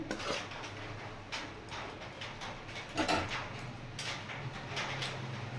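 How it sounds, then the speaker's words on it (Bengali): Snack batter being stirred by hand in a bowl for a Bengali evening snack, with repeated soft scraping and knocking clatters against the bowl, fairly close and moderately loud, with no talking. "এবার এটা আমি মিশিয়ে নেব ভালো করে।"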